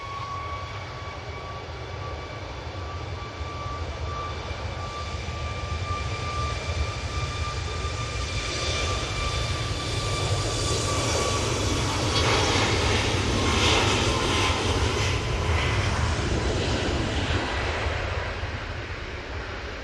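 A Boeing 737 MAX 8 jet takes off at Manchester Airport: a loud, sustained engine roar with a high whine that fades as the broadband rumble swells and peaks, heard at a distance without speech.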